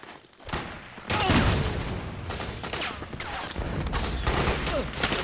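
Suppressing gunfire in Metal Gear Solid 4, rapid loud bursts of automatic fire and impacts rolling together in a dense battle din for several seconds.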